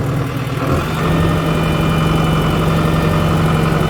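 A New Holland TS110 tractor engine runs in first gear with a steady, loud, low droning rumble and a constant hum, close by and uninterrupted.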